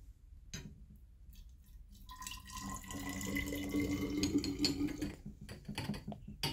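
Ten percent phosphoric acid is poured into a glass addition funnel in a lab. A faint splashing trickle builds gradually and runs steadily for several seconds, and no one talks over it.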